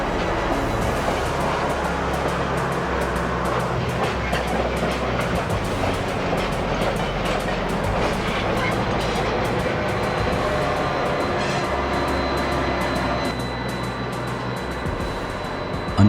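Chicago F40 diesel locomotive departing, a steady heavy rumble with rail clatter and a held engine note that swells and then settles, loud and continuous throughout with no talk.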